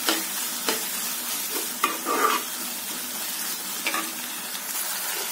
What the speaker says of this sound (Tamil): நல்லா வறுத்துக்கோங்க.